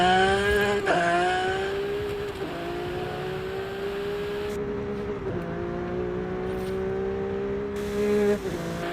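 A 2022 Ferrari 296 GTB in the Forza Horizon 5 racing game. The engine rises through several rev sweeps, with a gear-shift break near the start and more shifts along the way. It drones loud and steady throughout, and no one talks.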